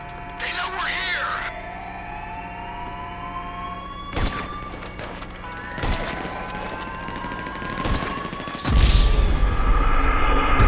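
Gunfire rattles in GTA V amid wailing police sirens, with bursts of shots, engine noise and voices talking over the action.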